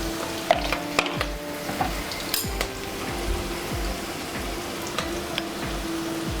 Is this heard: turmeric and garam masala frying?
yes